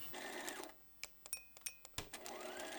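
A sewing machine stitching the hem of a simple skirt fabric in short separate bursts of rapid mechanical clatter, close and clear, with quiet gaps and handling noise between runs.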